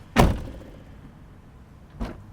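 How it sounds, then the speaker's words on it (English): Door of a 78 series Toyota Land Cruiser swings shut with a sharp, solid thunk up close, followed by a softer second knock a moment later. "And if I close the door"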